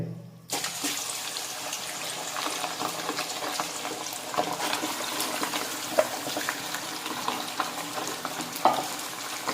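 Mutton pieces hit hot oil in a karahi, setting off a steady, loud sizzle and crackle that runs unbroken throughout, with a few faint clinks and stirs on top.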